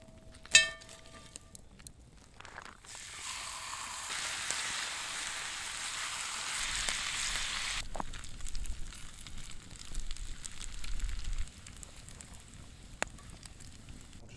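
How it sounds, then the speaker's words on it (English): Vegetables fry in bacon grease over a camp stove on a solo camping trip, a soft crackling sizzle like light rain on a surface, with a few sharp clinks and taps around it and no voices. "Just cook all of the vegetables in the bacon grease."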